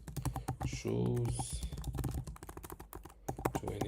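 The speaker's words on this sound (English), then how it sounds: "Now just fill it using your keyboard." Computer keyboard being typed on in quick, irregular clicking bursts while a person talks over it.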